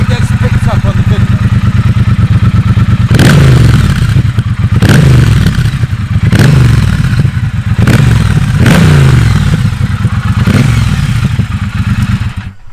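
A loud, nearby 2021 Triumph Speedmaster motorcycle engine, Euro 5 compliant, idles with a deep throb, punctuated by about five sharp throttle blips that rev and fall back.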